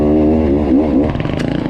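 A 2019 Beta 300RR Holcombe Replica two-stroke dirt bike engine on a single-track trail, heard up close as a loud, rising rev that drops into a choppy, pulsing idle-like burble.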